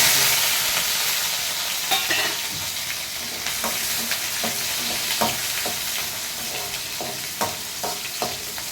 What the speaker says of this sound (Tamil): வெங்காயம் நல்லா வதங்கிடுச்சு பூண்டுலாம் நல்லா வதங்கிடுச்சு